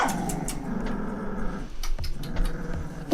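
Pit bull puppies in a litter give low, rough growls close by, broken by a few sharp yips and scuffling toward the end, with no talking.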